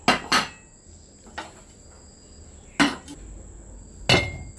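Washed plates clatter as they are set back in place, four sharp ceramic knocks spaced out across a few seconds in an otherwise quiet room, with no talking.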